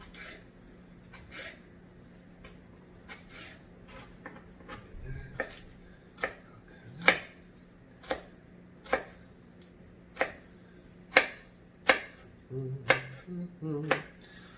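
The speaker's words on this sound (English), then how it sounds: "cut it up a little bit finer" A knife chops jalapeño peppers finely on a board, sharp close taps spaced irregularly and then coming faster toward the end, with no talk over them.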